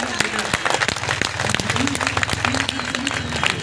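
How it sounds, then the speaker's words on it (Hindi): An audience at an Independence Day celebration applauds a performer in a dense, steady patter of clapping, with a voice talking through it. "जोरदार तालियों से स्वागत करेंगे"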